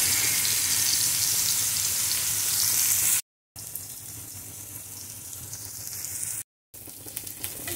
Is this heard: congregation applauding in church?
no